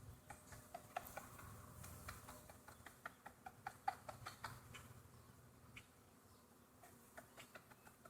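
Honey bees swarm around a hive, a faint, continuous buzz broken by scattered close passes and soft ticking taps, with no talk.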